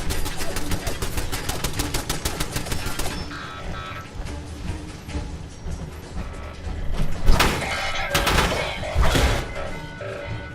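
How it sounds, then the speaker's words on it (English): Machine gun turrets open fire in Fallout 4's Mechanist DLC, sending out dense, rapid bursts of automatic fire. A mechanical sliding clatter joins in, and louder bursts break through near the end. "Thought I disabled the machine gun turrets."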